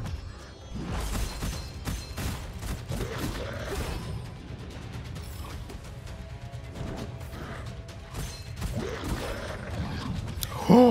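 Double-caliber shotgun blasts in the video game Gunfire Reborn, firing two bullets at once in a repeated series of sharp bursts with mechanical clatter, close and loud over a busy game background.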